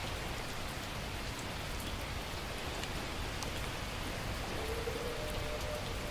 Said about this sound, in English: Maybe it'll stop raining.